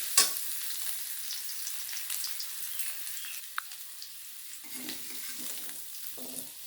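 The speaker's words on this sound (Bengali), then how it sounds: "দেখুন, কথা বলতে বলতে আমার আলুগুলো প্রায় ভাজা হয়েই গেছে।" Boiled potatoes fry in a wok with a soft, steady sizzle and hiss throughout, quiet and close, with no talking.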